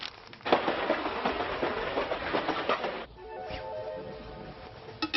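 A moving train rattles loudly, with dense clattering and rumble that eases after about three seconds into a steadier hum with tonal whine.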